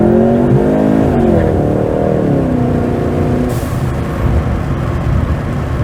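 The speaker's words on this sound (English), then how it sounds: "First gear and then just absolutely floor it." A Ford Mustang EcoBoost accelerates hard in first gear, its engine note climbing steadily in pitch for a few seconds before a gearshift drop, heard loudly from inside the car.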